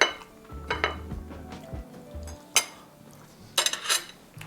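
A fork clinks against a plate while tasting homemade pancakes with butter and syrup: a few sharp, close metallic taps spaced apart, with soft handling bumps in between and no talk.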